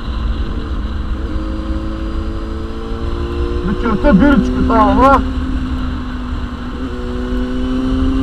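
A small motorbike engine drones steadily at low revs during a slow, easy ride, its tone rising and falling slightly, with someone talking over it throughout.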